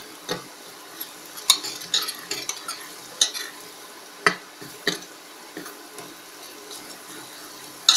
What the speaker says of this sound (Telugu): కొద్దిగా వెల్లుల్లిపాయ పేస్ట్ని వేగనివ్వాలి.